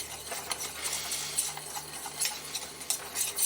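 A whisk scrapes and taps rapidly against a pan of scrambled eggs, a quick, irregular metallic ticking over a soft background hum.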